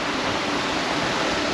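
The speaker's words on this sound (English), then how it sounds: "And the sound of that water" A gravel-bike ride in Bali toward Rendang passes a rushing stream, its flowing water making a steady, broadband wash that stays loud and continuous throughout, with no voices over it.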